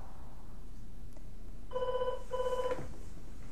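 A telephone rings in two short electronic bursts separated by a brief pause, heard faintly over a quiet room hum.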